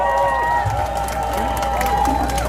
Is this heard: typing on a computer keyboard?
no